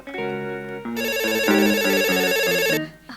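A telephone rings with a bright melodic ringtone, a short tonal phrase that swells louder midway and stops after about three seconds, alone and with no talk.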